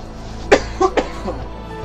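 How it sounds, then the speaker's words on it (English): A person coughs close by, three or four short, harsh bursts in quick succession with a low room hum underneath. "Wow, I'm coughing a lot."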